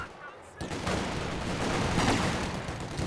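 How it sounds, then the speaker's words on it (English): Rapid submachine gun fire from German MP40s in the Company of Heroes 2 strategy game, a dense sustained rattle of overlapping bursts that kicks in after a brief quiet start, with battle noise and faint talk underneath. "Chasing them down with the MP40s."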